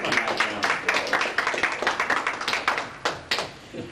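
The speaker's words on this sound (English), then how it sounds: "nice round of applause" A modest audience at a magic show claps for a volunteer returning to her seat, crisp individual hand claps close by in a loose, uneven rhythm that tapers at the end.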